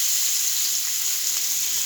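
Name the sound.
paneer frying in hot oil with turmeric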